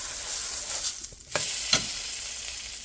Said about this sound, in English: he actually uses real butter to cook the cheeseburger. So we'll put a dollop in there first.